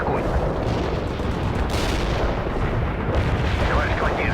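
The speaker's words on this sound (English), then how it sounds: "Pick up the deploy and lay down the heavy barrage" A heavy artillery barrage in World in Conflict pounds continuously, with dense overlapping booms and rumbling blasts forming a thick battlefield roar and a sharper impact standing out midway.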